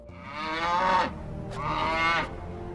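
A cow in the 2004 film Van Helsing gives two drawn-out, fairly loud moos, each about a second long, separated by a short pause.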